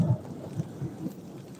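Thunder rumbles low and muffled in the distance, rolling in a few soft swells over a dull, steady background.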